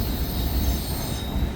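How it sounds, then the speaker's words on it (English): A train rolls past on the Newcastle subdivision rail line, a steady close rumble of wheels on track with a constant high metallic squeal riding over it throughout. "every once in a while, look, the train will go by"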